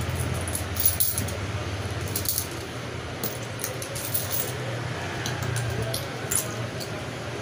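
Loose coins handled and jingling near the microphone, with soft clinks and rustles in uneven bursts over a background hum, and faint voices now and then.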